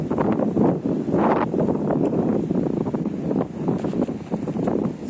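Strong, gusty wind buffets a microphone out on a boat during a fishing trip, a steady loud roar with surging gusts and possible waves beneath, no voices.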